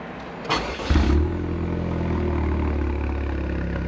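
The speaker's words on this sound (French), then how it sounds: "vous appuyez sur le frein, vous appuyez sur le bouton de démarrage" A Vanderhall car's engine cranks with a short whir and then catches and settles into a steady low idle, close and clear, with no talking over it.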